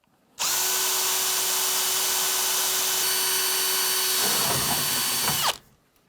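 A power drill with a 5mm bit bores into an acrylic bath, a loud steady whine that holds for several seconds, roughens as the bit bites through, then cuts off abruptly.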